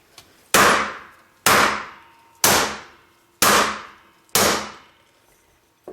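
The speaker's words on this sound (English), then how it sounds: "let's see what happens when we go through and try breaking this through with a hammer" A heavy hammer strikes metal at a pancake die five times at a steady pace of about one blow per second, each impact loud and sharp with a short ringing decay. No talking.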